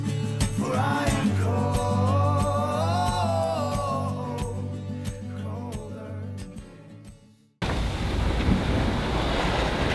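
Waves pound against a cutter-rig sailboat at sea, with heavy wind buffeting the microphone, a rolling surge of water and a harsher, brighter rush after a brief dropout.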